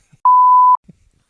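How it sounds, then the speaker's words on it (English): A single clean electronic beep, a steady mid-pitched tone of about half a second, sounds close and loud with a faint click before it and a soft thump after. "Beep."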